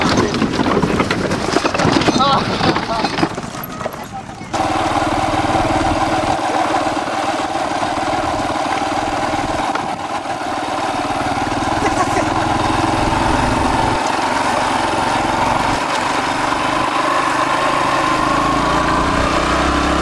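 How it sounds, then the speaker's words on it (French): A motorcycle engine drones steadily at close range beside a zebu cart race in Madagascar, with a busy, rougher stretch at the start before settling into a continuous hum with background voices. "Je suis sur la moto"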